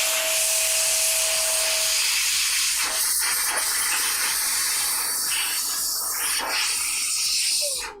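An air duster blows a loud, continuous hiss into a PC case while it is cleaned out. A faint tone and light rubbing or clicking sounds run beneath the blast.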